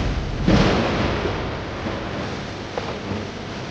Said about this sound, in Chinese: 师傅，打雷了，马上要下雨了